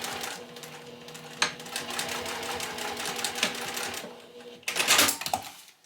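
A sewing machine back-stitches across zipper tabs on a fabric pouch, its needle running in a steady rapid rattle close by, with short pauses and a final louder burst of stitching.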